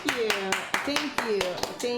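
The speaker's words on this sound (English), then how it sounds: "give a round of applause for her" Audience applause at a comedy show: brisk, evenly spaced claps close by, under a voice speaking over them.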